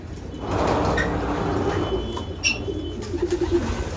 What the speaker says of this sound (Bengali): এই যে কবুতরটা কি জাতের কবুতর